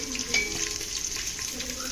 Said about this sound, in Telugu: కొంచెం గోల్డెన్ బ్రౌన్ వచ్చేదాకా ఫ్రై చేసుకున్నాం.